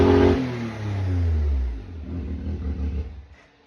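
A Can-Am X3 engine revs up loudly nearby, then stutters and sputters unevenly as it misfires from a bad spark plug, with the rough chopping fading out at the end.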